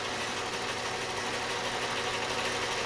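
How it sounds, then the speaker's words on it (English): A metal lathe running in a shop, a steady dense mechanical drone with a faint hum, even in level and uninterrupted, nearby with no voices. "Because we're running the lathe."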